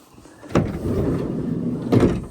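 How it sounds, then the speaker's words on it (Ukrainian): The sliding side door of a 2019 Renault Kangoo Electric van: a loud thump as the door is released and rolls along its track, a short sliding rumble, then a second firm thud as it stops, with nobody talking. "І є ще бокова дверка."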